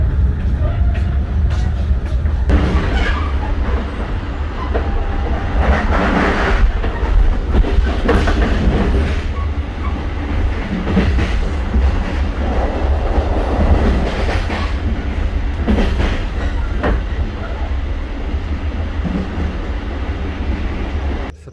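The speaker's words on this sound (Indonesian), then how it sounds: "Tepat pukul 10:05 kereta api Kuto Jaya Selatan diberangkatkan dari stasiun Kiara" Kutojaya Selatan passenger train pulling out of Kiaracondong station, heard from inside as a loud, constant low rumble with rhythmic wheel clatter and occasional creaks, steady throughout with no talking.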